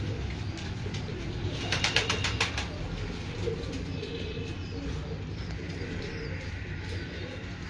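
Pigeons in a rooftop loft coo steadily and continuously, with a few faint bird chirps and light outdoor background noise around them.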